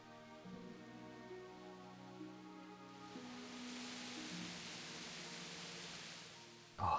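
Steady rain falls in the Kingdom Come: Deliverance video game, a soft hiss that swells in over a low musical drone and ends with a brief louder sound.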